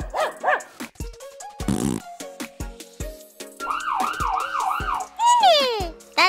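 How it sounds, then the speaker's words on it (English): A cartoon ambulance siren from a children's car-hospital show, heard as rising and falling wee-oo sweeps mixed with other toy-like sound effects, barks and short bursts, fairly loud and busy. "The ambulance goes wee-oo,"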